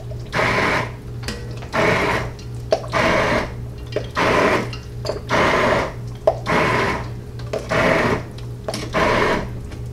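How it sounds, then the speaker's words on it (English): A blender whirs through corn chowder in short pulsed bursts, about eight on-off cycles, close and steady, with a low motor hum running underneath. "put it in your blender, blend it up"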